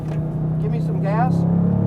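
Engine of a 2020 Dodge Charger Hellcat widebody revs under throttle, a steady low rumble with a rising tone, under a driving instructor's voice talking over it.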